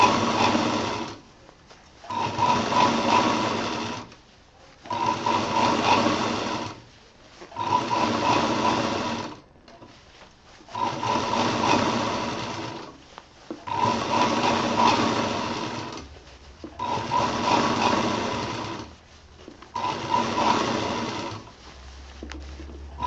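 Sewing machine running a double line of stitching on a round kids' bag, in repeated bursts of steady whirring stitches of about two seconds each, separated by short pauses, close and moderately loud with no talking.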